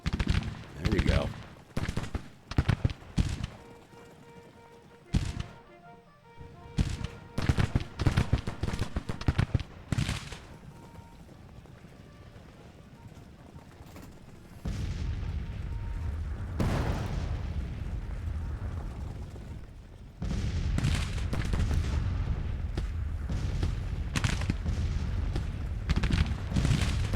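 Artillery battery and gunfire in a war strategy video game, with repeated sharp booms and bursts of shots across a chaotic battle, loud explosions rising and dropping throughout.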